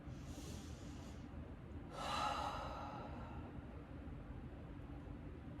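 Loud ujjayi-style ocean breathing during a full-body yoga flow, a soft hissing exhale swelling for about a second before easing off, close to the listener, with a steady low hum running underneath and no talking.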